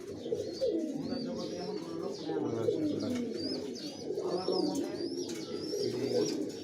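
Pigeons cooing continuously in a home loft, overlapping soft throaty coos with occasional higher chirps, steady and fairly close throughout.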